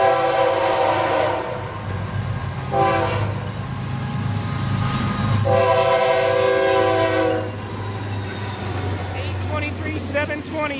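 A Florida East Coast Railway freight train, number 121-03, rolls past at milepost 302 in the early morning, sounding its horn in several loud blasts over a steady rumble and rail clatter.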